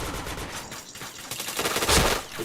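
Gunfire in the first-person shooter Point Blank, rapid automatic bursts rattling continuously and close, dense and loud.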